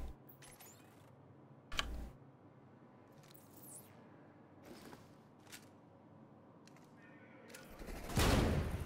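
TAC 50 sniper rifle firing in a video game shooting range, a few sharp, isolated shots spaced seconds apart with quiet gaps between, ending in a louder, longer blast.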